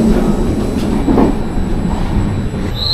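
A train rumbles steadily along the rails, a loud low roar with faint rhythmic clatter and a brief high squeal near the end.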